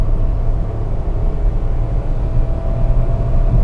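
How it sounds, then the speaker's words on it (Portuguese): A 2023 Renault Kwid's three-cylinder engine revs under acceleration, heard from inside the cabin as a loud, steady low droning rumble with no talk. "Se eu puxar contagiros aqui, acelerar bem, você vai escutar bem o 3 cilindros."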